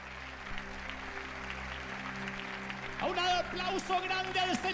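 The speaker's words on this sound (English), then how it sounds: "Give a grand applause to the King of Kings" Congregation applause during a church sermon: moderate, continuous clapping from a crowd, joined midway by a sustained tonal melody rising over it.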